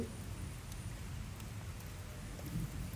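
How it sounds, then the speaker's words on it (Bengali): Heavy rain patters steadily in a dense, continuous wash of drops, heard close and fairly loud with no speech. "দেখেন বৃষ্টির ঝুমঝুম কি শব্দ, অনেক ভাল লাগছে।"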